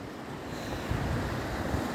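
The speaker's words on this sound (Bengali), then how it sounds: "হয়তো সমুদ্রের ঢেউ পাচ্ছি আমরা এখান থেকে আওয়াজ" Sea waves wash steadily along the Italian coast at night, a broad, continuous rushing roar with gentle surges, heard from a distance and mixed with wind buffeting the microphone.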